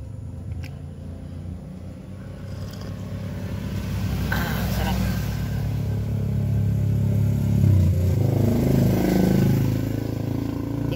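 Motorcycle engines rumble and grow louder as they pass close by, under continuous talking.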